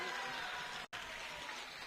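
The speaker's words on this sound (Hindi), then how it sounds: "जोर से ताली बजाओ सेंटाना चकमा के लिए सभी लोग" An audience claps loudly and steadily at a political rally, a dense and continuous wash of applause that breaks off for a split second and then carries on.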